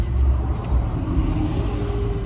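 A 1970 Ford Mustang with a 302 engine idles quietly, a low, even rumble close by with no talking.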